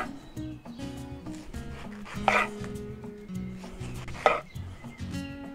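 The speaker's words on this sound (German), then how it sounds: "dann schneide ich mir so 1 bis 2 cm dicke Scheiben hier runter." A knife cuts a peeled pineapple into thick slices 1 to 2 cm wide on a board, giving a few firm, moist chopping strokes with two sharper thuds, close up and with no talking.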